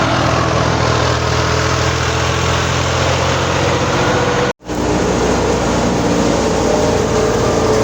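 A tractor engine idling during the wheat harvest, a loud, steady low rumble with a constant throbbing drone close by, briefly dropping out once before continuing unchanged.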